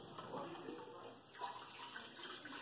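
Running water rinses out a container while brisket is being prepared, a steady close splashing wash that continues without a break for a few seconds.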